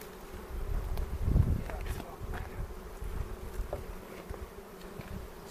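Honeybees hum steadily at an open hive during an April inspection, a low continuous buzz close to the microphone with light wind noise, swelling briefly near the start.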